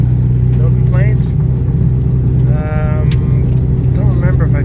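A Toyota Camry engine runs at a steady idle, its constant low rumble filling the background while a person talks over it throughout.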